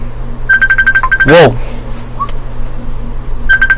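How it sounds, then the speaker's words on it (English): An incoming call on a phone: a repeating electronic ringtone of rapid short beeps in one burst near the start and again at the end, with a brief whistle-like sweep in between. "I have a phone call"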